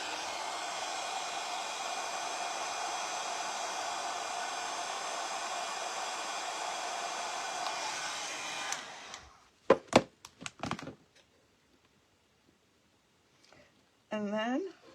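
A heat tool warming a decoupage piece blows with a loud, steady whooshing drone for about nine seconds, then cuts off, followed by several sharp knocks and a brief rustle.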